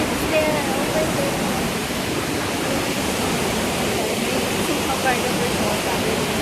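Dimatubo Falls in Baler, after a typhoon, pours with a steady, dense roar of rushing water that holds unbroken and loud throughout, with no pauses.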